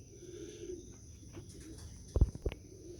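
Racing pigeons at their home loft after a young-bird training fly, with soft low cooing and a few brief wing flaps or scuffles close by, over a quiet outdoor background; no talking.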